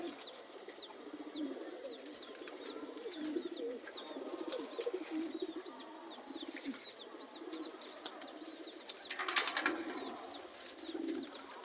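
Pigeons cooing repeatedly at a home loft, soft rhythmic coos recurring through the scene with faint rustling and some bird movement, fairly quiet and close.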